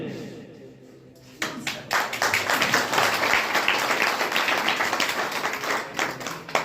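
Audience applause for a blockchain launch announcement, starting after a quiet second and continuing as steady, dense clapping to the end, with voices mixed in.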